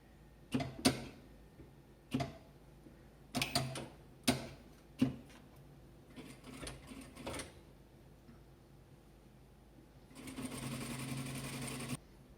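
A sewing machine stitches a ruffled dish towel in several short bursts of rapid mechanical clatter separated by pauses, then runs in one longer continuous stretch near the end, close and fairly quiet.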